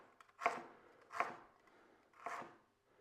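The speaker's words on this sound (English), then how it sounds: "I'm just trimming and cleaning that up a little bit." A knife trims and cleans fresh ginger on a board, giving three quiet, evenly spaced cuts in a row.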